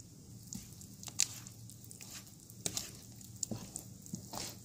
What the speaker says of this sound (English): You can see I'm stirring in one direction.